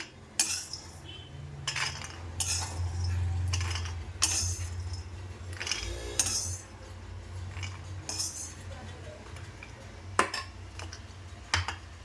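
Fried peanuts scooped from a kadai into a bowl: repeated metallic scrapes and clinks of a ladle against the pan, with light rattling of nuts tumbling, irregular and close.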